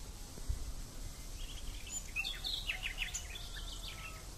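Sparrows chirp outdoors in a rural village near Berkane, Morocco, with several faint, high twittering calls in the distance over a low hiss of wind and ambient noise.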